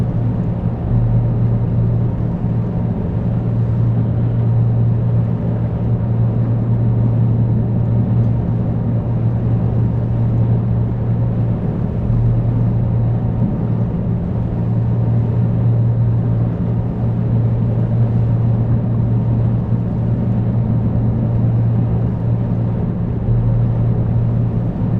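Ship engine pods rumbling steadily in the video game Seafarer, a continuous low droning hum that holds unchanged throughout, loud and alone with no talk over it.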